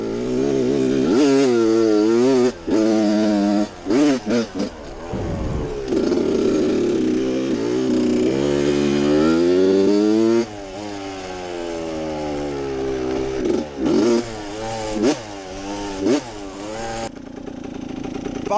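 An RM105 dirt bike's two-stroke engine revs hard as the rear tire spins during a wheelie attempt, rising and falling in repeated high-pitched wails, loud and close with brief drops between throttle bursts.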